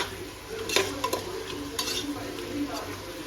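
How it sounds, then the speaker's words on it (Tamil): Onions sauté in a pot for seeraga samba mutton biryani, a soft sizzle under a few brisk scraping stirs of a spoon near the start and middle, close and fairly quiet, no talking. "வெங்காயம் வந்துட்டு வதங்கிட்டு இருக்கு"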